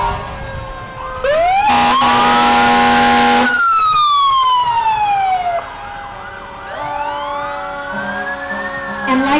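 Fire truck sirens at a St. Patrick's parade, loud wailing tones rising and falling with an electronic yelp burst and overlapping horn blast, close and prominent with no talk.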